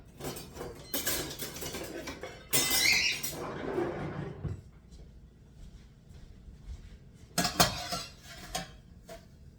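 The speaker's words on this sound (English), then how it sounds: "So I've got to spoon them out now." Metal spoon scraping and clinking against a pot while lifting out steamed asparagus, a few sharp clatters and bursts of scraping separated by quieter kitchen pauses, fairly close.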